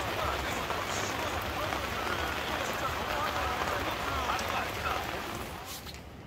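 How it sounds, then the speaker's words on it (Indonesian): Steady rain falls on a tent at a beach campsite, a dense continuous patter that holds throughout and eases slightly at the end. "Hujannya benar-benar gak berhenti."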